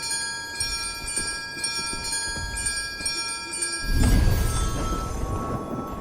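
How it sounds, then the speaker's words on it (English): Bell alert in the game Mistfall Hunter: a sustained ringing bell tone with steady high partials, joined near the end by a louder low rumbling surge. "Okay, bell alert, friends. Bell alert."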